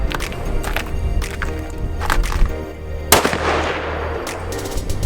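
Gunfire from a firearm test-fired on a wild pig hunt in California: one loud, sharp shot with a ringing, decaying echo, plus several fainter cracks and some handling noise around it.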